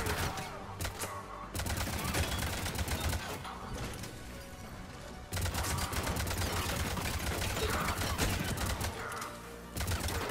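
Sustained gunfire in the cover-based shooter Mass Effect 3, loud and close, made of dense rapid bursts and rattling automatic fire that fills the whole stretch apart from a couple of brief lulls.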